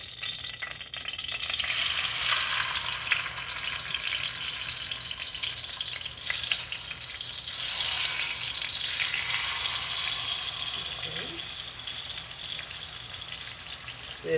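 Tilapia frying in hot oil, a steady crackling sizzle that carries on close and even throughout.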